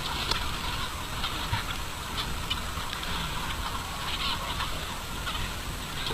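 A large flock of chickens on an open farm, several thousand birds, feeding eagerly on soaked wheat, giving a steady, dense chorus of clucking and squawks with no pause.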